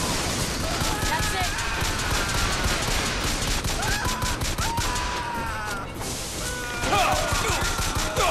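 Rapid handgun blind fire in the video game Bioshock Infinite, a dense run of loud, close shots with crashing impacts over busy combat noise throughout.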